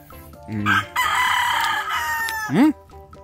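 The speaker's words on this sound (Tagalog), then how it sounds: "Manok mo doon, tumilaok na." A rooster crows loudly and close by, its call rising and breaking, with a short clucking note before it and another bird call at the end.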